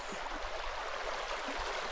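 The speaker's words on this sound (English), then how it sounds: "Fresh water from the mountains." Fresh mountain water rushing along a stream in the Kosciuszko high plains, a steady broad wash of flowing water heard up close with no voices.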